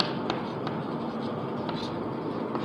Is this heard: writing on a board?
yes